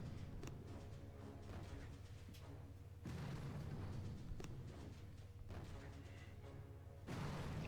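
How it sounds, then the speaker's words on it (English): Mortar cannon fire from a boat in the Boom Beach strategy game, heard as dull booming blasts and crackling explosions over a dense, continuous battle din, with louder impacts around three and seven seconds. "I might need to blow my mortar cannon from the boat on that"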